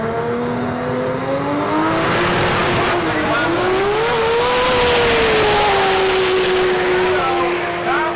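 A Forbidden 370 drag car, apparently engine-swapped, roars at high revs with a rising and falling engine note that sounds close and loud and holds steady throughout, with a hint of tire noise.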